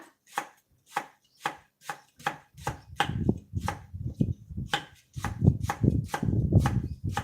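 Galangal and lemongrass are chopped with a knife on a board for northern Thai curry paste, first as evenly spaced single thuds, then speeding into rapid, denser chopping up close.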